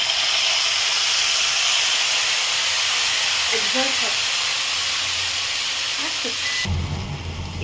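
Tamarind water hitting a hot pan for a pachchadi over a lowered flame, a loud, steady sizzling hiss close by that holds for several seconds before cutting off abruptly, with faint voices underneath.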